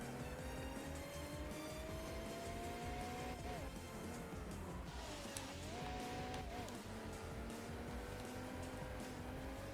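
Mercedes-Benz 300SL Gullwing from 1954 driving in a racing video game, with a continuous engine drone whose pitch dips and rises through gear changes, steady and moderately loud with no talk.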